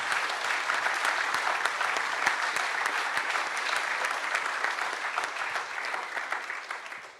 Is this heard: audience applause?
yes